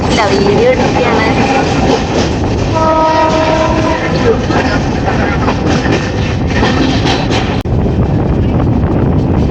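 A passenger train in Odisha, India, rumbles along with steady wheel and carriage noise, sounding its horn in a held blast partway through, while voices talk nearby over the continuous roar.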